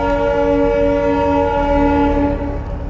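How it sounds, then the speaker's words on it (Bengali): A train passing along a track beside a road sounds its horn in a loud, sustained multi-tone blast that stays close and strong throughout, with no talk over it. "হর্নটা কিন্তু দারুণ।"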